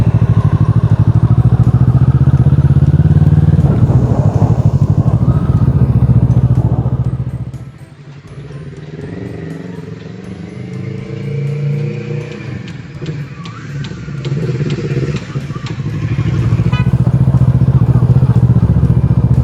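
A 2012 Kawasaki ER6N motorcycle ridden slowly through a residential street with speed bumps and children about: a steady, loud engine drone that dips to a softer level midway, then swells again toward the end.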